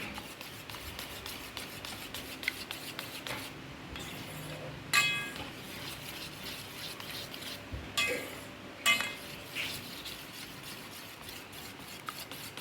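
Quiet stirring in a pot as food colour is mixed into kacchi biryani, with soft scraping and occasional metallic clinks of a spoon against the pot, a few sharper knocks standing out.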